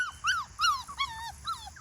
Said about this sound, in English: I was just trying to break that constant yapping at me.